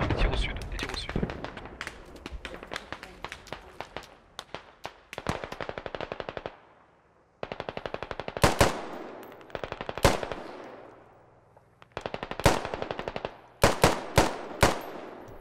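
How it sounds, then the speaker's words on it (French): Squad battlefield gunfire: sustained bursts of automatic rifle and machine-gun fire, loud and close, broken by short pauses and sharp single shots, with a voice talking now and then between bursts. "On va tirer au sud, des tirs au sud"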